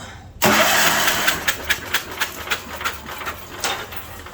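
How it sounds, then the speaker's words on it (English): A 1972 Wheel Horse Raider 12 lawn tractor engine, after sitting in a shed for 15 years, cranks on its starter in a loud, close, rhythmic chugging that runs on without catching. "Alright, I'm gonna hit the starter."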